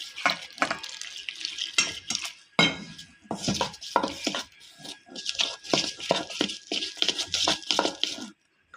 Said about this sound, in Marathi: आता हे पाणी घालून आपण चांगलं बॅटर तयार करून घेऊ